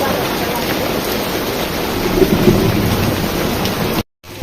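Steady heavy rain at a riverside heritage site in Sonargaon, Bangladesh, with a faint low rumble of thunder underneath, a continuous broadband wash that cuts out briefly near the end.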